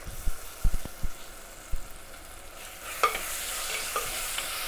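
Curry leaves are tossed into an old, cracked clay pot and stirred, giving soft scraping and scattered faint crackles and sizzle, close by, with a few sharp knocks early on and no talking.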